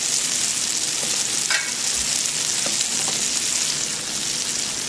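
Sole meunière frying in a pan over high heat, a steady bright sizzle of fish in fat with a few soft clicks and scrapes of utensils, close and continuous without voices.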